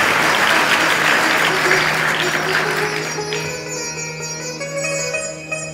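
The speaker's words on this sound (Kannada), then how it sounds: "ಭಾಳ ಜೋರಾಗಿ ಚಪ್ಪಾಳೆ ಅಂತ ತಟ್ಟಿ" Audience applause at a Shiva katha religious discourse gathering in Yadur, a dense sustained clapping that fades out gradually, with instruments faintly sounding beneath it and no talk.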